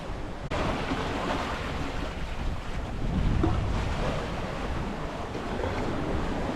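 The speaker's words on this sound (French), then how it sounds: "Je me prends bien les vagues par l'arrière." A solo sailboat crossing the North Atlantic takes ocean waves from behind, a continuous rushing wash of water and hull noise under steady wind buffeting the microphone, swelling briefly louder midway and otherwise constant, with no voices.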